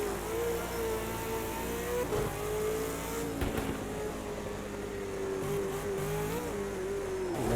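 Project Cars 2 race car at Bathurst holding a loud, sustained high-revving engine note, broken by brief crackling exhaust pops around gear changes, with no talking.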